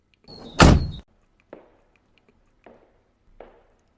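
A car door opened in a garage: one loud, close thunk followed by a few fainter knocks and rattles spaced apart in an otherwise quiet space.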